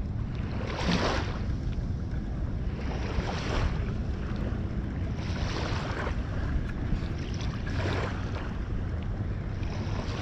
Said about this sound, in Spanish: Solo van a escuchar el ruido del agua